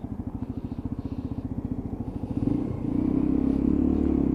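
A Lexmoto Assault motorcycle engine runs steadily at about 4,500 RPM while riding, first a close, rhythmic low thumping, then a smoother, louder drone after a rise midway.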